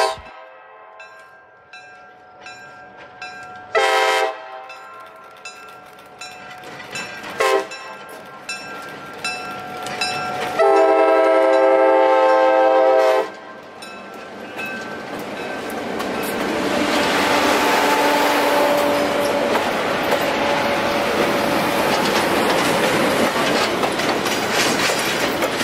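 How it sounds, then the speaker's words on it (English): Vintage GP7 diesel locomotive CNO 5704 pulling a train south on a CSX mainline, sounding several loud horn blasts, the longest near the middle, followed by rising clickety-clack of rolling cars. "CNO 5704, the oldest continuously operating GP7 in the country, began pulling the train south towards the signal on CSX."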